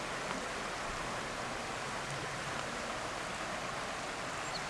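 Spring water boiling up out of the ground along the upper Elk River, a steady low rushing and bubbling wash that holds even and faint throughout with no voices.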